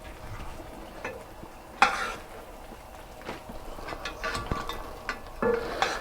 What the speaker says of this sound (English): we want to keep stirring it so it doesn't scorch